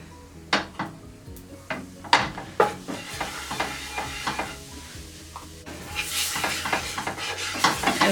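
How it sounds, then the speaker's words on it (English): Curry powder and saffron stirred into hot oil in a pan: a quiet sizzle under a series of spoon scrapes and clinks against the pot, with the frying swelling louder near the end. "I'm adding in about a tablespoon of curry powder and about a teaspoon of saffron. Okay, just mix that into the oil."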